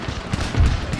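Musket volleys in the Empire Total War strategy game, a dense crackle of massed gunfire filling a one-second burst with low thuds, no speech.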